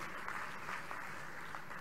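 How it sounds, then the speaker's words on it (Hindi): Audience applause at a live political address by a Madhya Pradesh chief minister, a faint, steady wash of clapping from a crowd heard at a distance. "एक बार आप सब ताली बजा के सबका अभिनंदन करें"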